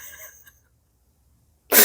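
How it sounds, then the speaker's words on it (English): A smoker's cough: after faint voiced sounds and near silence, one sudden harsh cough bursts out loud and close at the very end. "That's my smoker's cough."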